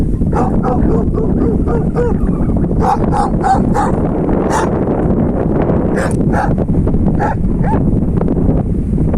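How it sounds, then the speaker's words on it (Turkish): Newborn puppies whimper and yip in a stream of short, high cries, some overlapping, heard up close over a steady background rumble. "Aşağıdan da yavru sesleri geliyor arkadaşlar."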